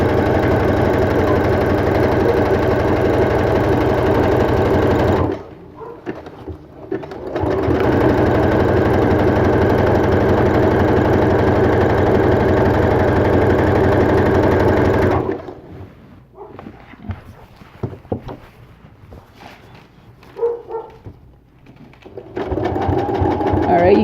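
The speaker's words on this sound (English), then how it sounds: "Make sure you zigzag back stitch and then continue so your stitch will not come unraveled." Sewing machine zigzag stitching an appliqué onto a T-shirt, a loud steady mechanical whir running in two long bursts with a pause between, then sparse quieter handling sounds and light talk.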